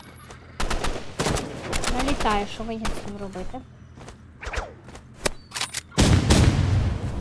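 Rapid bursts of gunfire in the online shooter game Rivals, with repeated sharp shots and short automatic volleys close up, some louder blasts near the end, while a player talks over the action.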